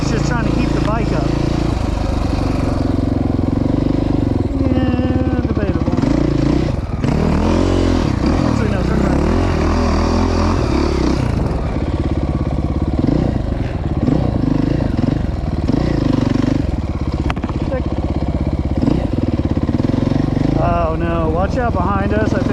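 Dirt motorcycle ploughing through soft sand at an off-road riding area, its engine droning and revving unevenly up and down close by, with people talking throughout.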